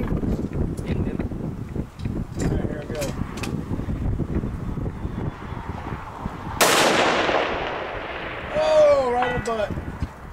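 Rifle gunshots at an outdoor shooting range: a sharp loud report with a long decaying echo near the middle, preceded by wind noise and people talking nearby.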